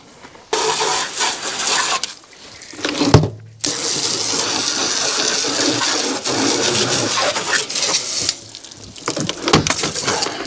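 Water sprays hard from a hose, rinsing soaked-in grease off an APU during summer maintenance, a loud, steady gush that cuts out briefly around three seconds and fades near the end before resuming.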